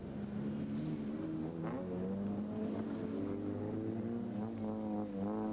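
Several Suzuki Swift race cars in the Suzuki Challenge head out onto Oulton Park circuit, engines droning and revving steadily with rising pitch sweeps, close and loud throughout.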